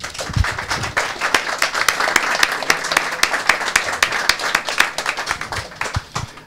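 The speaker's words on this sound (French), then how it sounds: "on va peut-être les applaudir déjà" An audience at a public talk with filmmakers Raymond Depardon and Claudine Nougaret breaks into sustained applause, dense close clapping with sharp individual hand claps standing out.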